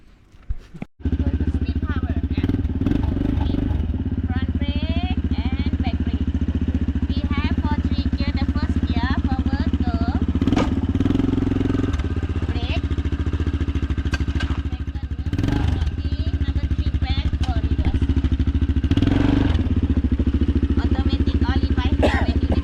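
ATV engines on an off-road ride in Krabi, Thailand drone steadily and loudly throughout, with occasional revving swells and rattles, while people talk over the engine noise.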